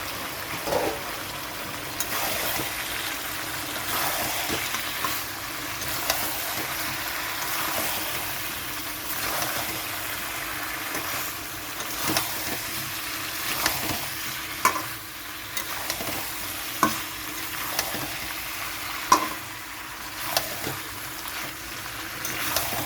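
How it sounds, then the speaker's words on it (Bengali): Half-cooked chicken and cut potatoes fry together in a pan, a constant moderate sizzle punctuated by repeated scraping and clanking stir strokes every second or two, with no voices. "চিকেনটা হাফ কষানো হয়ে গেছে, তো এখানে আমি কেটে রাখা আলুগুলো দিয়ে দিচ্ছি"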